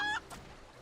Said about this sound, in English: I tamed a rooster and painted it green